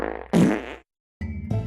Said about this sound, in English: Stop dousing honest taxpayers with your farts.